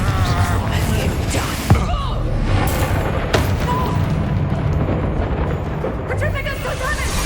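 A Confringo blasting spell explodes in Hogwarts Legacy amid a dense, roaring wall of battle noise, with a few sharper booms cutting through a loud, continuous rumble.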